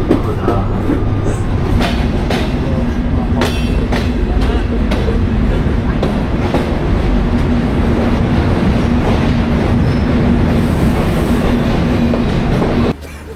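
The Benapole Express passenger train rumbles past loudly with a steady heavy roar, rhythmic clickety-clack of wheels over rail joints and a sustained droning tone, continuous for the whole stretch before easing slightly at the end.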